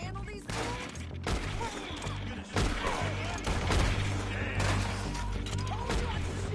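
Scattered gunshots crack through a busy scene from a film or game, several sharp bursts at irregular intervals, fairly loud against a dense, noisy background with voices mixed in.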